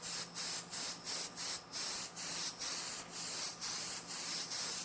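Light mist coats of spray paint going onto a car model, heard as short airy hissing bursts repeating about twice a second, close and steady with brief gaps between each pass.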